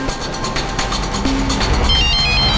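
Kavita's mobile phone ringing, a short electronic ringtone melody with tonal beeps over a busy room background, fairly loud and close, no speech.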